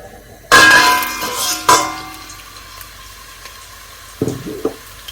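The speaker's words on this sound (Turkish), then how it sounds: "Yağ kızdı. Şimdi soğan koyalım." Onions dropped into hot oil for a Georgian-style eggplant and rice stew give a loud sudden sizzle burst, a second surge soon after, then a quieter frying hiss with a few clattering stirring knocks near the end.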